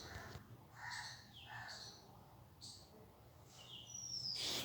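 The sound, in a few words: birds calling in trees in the background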